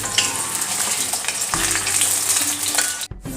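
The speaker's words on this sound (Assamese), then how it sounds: "এতিয়া মোৰ তেল গৰম হৈ গৈছে আৰু এতিয়া মই আলু ফ্ৰাই কৰি লম।" Potatoes fry in hot oil with a loud, close, steady sizzle and crackle, a few stirring knocks, and a brief sharp cut near the end before the frying resumes.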